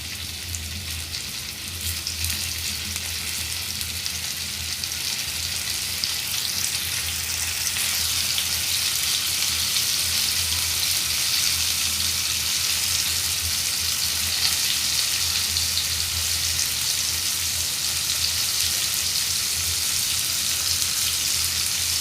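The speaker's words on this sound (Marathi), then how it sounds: "तेल आता आपलं तापलेलं आहे. आपण हे बोंबील आता फ्राय करून घेऊया." Bombil (Bombay duck) fish fries in hot oil, giving a steady, dense sizzle and crackle that runs without a break, close up and alone with no voices.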